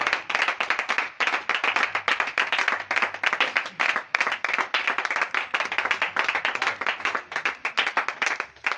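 A church congregation clapping together in praise of the Lord, fast rhythmic hand claps in unison, loud and continuous throughout without pause.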